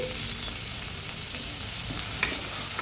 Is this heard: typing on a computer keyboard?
no